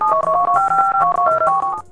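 Telephone keypad being dialed, a quick run of steady two-tone beeps of uneven length following one another almost without pause, loud and close with no talk.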